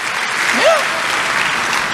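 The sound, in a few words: church congregation applauding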